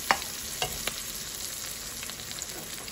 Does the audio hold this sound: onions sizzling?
yes